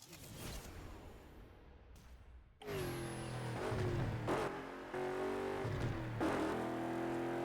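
Race car driven hard in Burnout Paradise, its engine revving and shifting steadily with rising whines and whooshes, loud and close, with a brief quieter stretch before the engine surges back.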